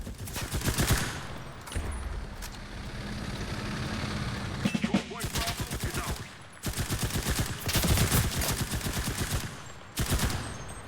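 Bursts of machine-gun and rifle fire from a war video game, loud and close and coming in repeated rapid volleys with short pauses between them. A low engine rumble runs underneath.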